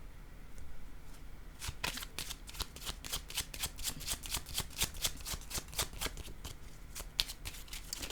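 Tarot cards shuffled by hand for a card reading, with a rapid, close run of crisp riffling slaps in a steady rhythm and no voice over them.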